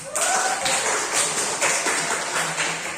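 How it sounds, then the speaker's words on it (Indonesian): Classroom applause for a student: a dense, continuous patter of many hands clapping close by, holding steady for about three seconds. "Tepuk tangan untuk Aras."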